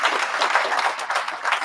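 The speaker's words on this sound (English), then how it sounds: "Can we give them a big gigantic round of applause?" Audience applause at a graduation ceremony, dense steady clapping from a crowd throughout, moderately loud and without pause.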